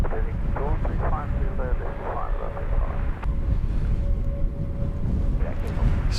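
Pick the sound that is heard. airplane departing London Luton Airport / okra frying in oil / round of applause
airplane departing London Luton Airport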